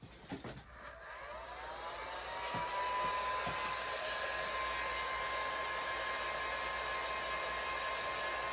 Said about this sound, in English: I'm going to take my heat gun. I'm going to put it on low and high heat.